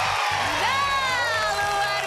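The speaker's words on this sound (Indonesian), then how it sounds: "Boleh berikan tepuk tangan sekali lagi yang meriah untuk Dokcil hebat kita" A children's competition audience cheers and whoops loudly, a dense, continuous crowd roar with high shouting voices, no gaps.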